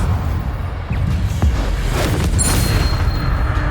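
Incendio fire spell cast in Hogwarts Legacy: a deep booming burst with a whooshing flare over a rumbling low-end bed, loud and close, without speech.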